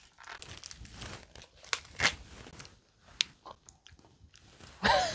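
Someone eats coffee latte sauced fried chicken up close, with crisp crunching bites, chewing and crinkling packaging or glove noises scattered irregularly, faint and intimate, with no talking.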